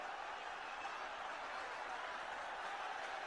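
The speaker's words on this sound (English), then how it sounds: "Just listen to the crowd." Dense, steady roar of a large crowd cheering at a cricket stadium during the tense final over of a 1993 Hero Cup semi-final between India and South Africa, loud and continuous without breaks.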